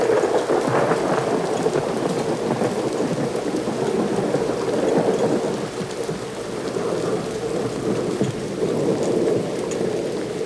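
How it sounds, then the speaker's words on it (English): Heavy rain pours down steadily in a dense, continuous hiss, with low rumbles of thunder underneath. "This rain just kept falling hard and fast,"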